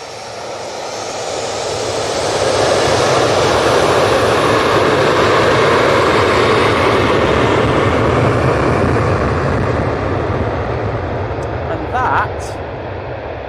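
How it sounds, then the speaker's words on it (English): Ryanair jet taking off from Manchester Airport on an inaugural flight to Toulouse, a loud, broad engine roar that swells within the first two seconds and holds steady, with a voice talking faintly over it. "The Ryanair inaugural off to Toulouse"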